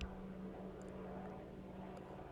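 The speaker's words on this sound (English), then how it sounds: "I can hear a helicopter." A helicopter flies nearby beside a river, giving a steady low rotor and engine drone at moderate distance. The drone holds without a break, with a few faint high ticks over it.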